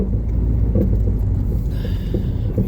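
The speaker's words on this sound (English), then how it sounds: "Okay, I'm gonna try parking in there." A car creeps into a parking spot at a community food bank in Moses Lake, its engine a steady low rumble throughout with no speech.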